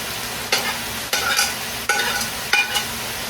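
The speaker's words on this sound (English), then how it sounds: "Now we're gonna add our peppers and our carrots right in here." Peppers and carrots sizzle in a pan with browning potatoes on a stovetop burner, a steady close frying hiss broken by four scraping stirs at roughly even intervals.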